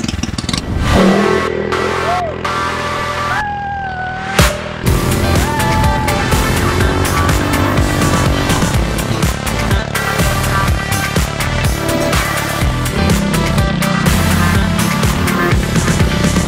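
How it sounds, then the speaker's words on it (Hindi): Several motorbikes ridden across desert dunes on a safari in Dubai, engines loud and close, revving and droning continuously with a brief rise and shifting pitch as they accelerate, with no talking. "यहाँ सिर्फ 4 मोटर बाइक्स है, वो हमारे लिए ही थी"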